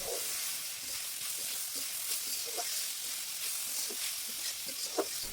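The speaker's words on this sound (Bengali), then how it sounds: "আরও কিছুক্ষণ নাড়াচাড়া করে ভেজে নেব" Banana stem frying in a pan with spices and sliced green chillies gives a quiet, steady sizzle, broken by soft scraping knocks as it is stirred.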